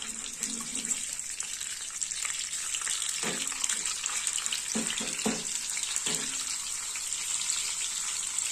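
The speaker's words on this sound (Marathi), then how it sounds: "तुम्ही बघू शकता छान असं अद्रक लसूणची पेस्ट तळत आहे" Ginger garlic paste sizzling in hot oil in a pan, a steady bright frying hiss throughout with a few soft clinks of a spoon against the pan partway through.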